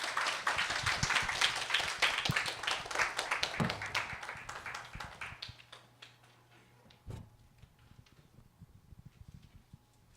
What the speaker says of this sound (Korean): 나오실 때 큰 박수로 환영해 주세요.